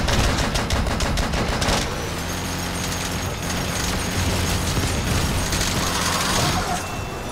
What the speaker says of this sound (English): Sounds like somebody found one of my mines.